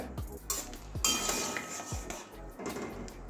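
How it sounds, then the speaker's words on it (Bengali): The lid comes off a pot of soya chunks that were boiled for a curry, with several close metallic clanks and clinks of lid and cookware and brief scraping between them, and no talk. "এবারে ঢাকনা খুলছি"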